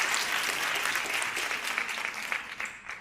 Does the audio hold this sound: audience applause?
yes